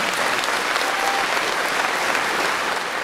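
Audience applause at a concert and CD launch in Topoľčany, a steady, full clapping from a large crowd that holds at an even, fairly loud level throughout, with no talk on top.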